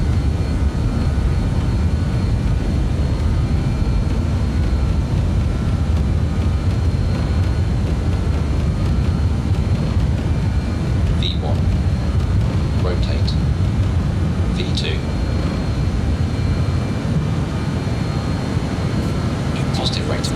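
Airliner jet engines at takeoff power on the runway roll in Microsoft Flight Simulator 2020, a loud, continuous, steady roar with brief faint chirps and occasional cockpit voices over it.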